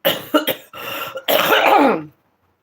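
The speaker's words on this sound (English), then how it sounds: "I'm about to cough." A rough, throaty cough and clearing of the throat, several short bursts leading into a longer harsh one, close up, then silence.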